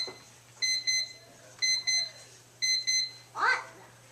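A classroom timer set for board math goes off with repeated bursts of high electronic beeps, four clusters of double beeps about a second apart, with a faint young voice at the end and a low hum beneath.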